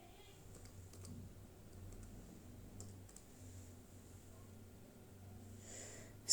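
Keys tapped on a computer keyboard while entering code for a hobbies app, a steady run of light, quick clicks at close range with soft breathing and a low hum beneath, ending in a brief louder knock.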